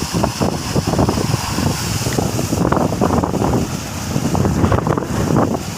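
Steady wind blows outdoors on a hot, sunny day, roaring and buffeting against the microphone in continuous gusts for the whole stretch, with no talking.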